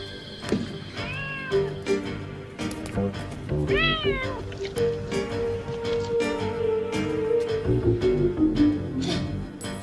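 Cat meowing in a 1989 film, several distinct drawn-out meows over about ten seconds, close and fairly loud, mixed with thumps and other room noises.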